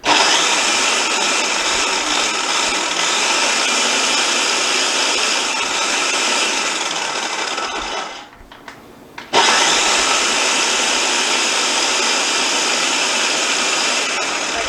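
A food processor pulses flour, sugar and salt with a loud, steady whirring roar that cuts out briefly near the end, then restarts and runs on.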